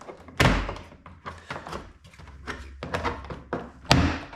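A 2022 VW Tiguan right door panel is pried off its clips in a series of sharp plastic pops and thunks, irregular and close, with loud snaps near the start and end.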